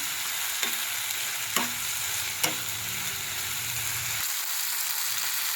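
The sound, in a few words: frying and stirring spice masala in a pan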